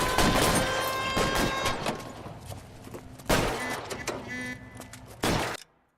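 Several loud gunshot bursts in the video game L.A. Noire crack out in quick succession, with a couple of sharp isolated shots following, then the sound cuts off abruptly.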